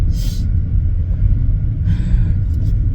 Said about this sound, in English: Oh, so many freight cars.